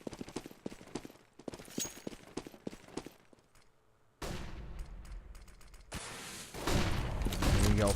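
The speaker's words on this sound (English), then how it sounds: "Flashbangs being exchanged." A Counter-Strike match with gunfire and flashbangs, heard as a quick run of crackling shots, a short lull, then louder bursts and blasts that build to a dense, sustained clatter.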